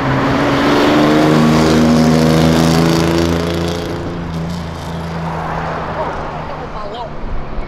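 A Nissan 350Z with a loud engine drone pulls away, its revs rising then easing as it moves off, while people talk over the sound.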